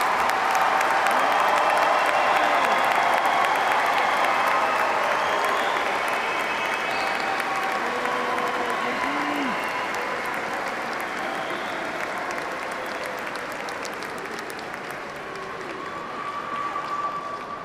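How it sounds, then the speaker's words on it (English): Sustained applause from a large crowd filling a hall at a university commencement ceremony, steady and full, slowly easing off toward the end. "Let's give one more round of applause for all of our graduates."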